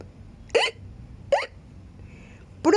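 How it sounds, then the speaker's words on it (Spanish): Three short hiccups sound at roughly regular intervals, each a quick, sharp voiced gulp, close and alone over a quiet low hum. "¿Cómo puedes detener el hipo?"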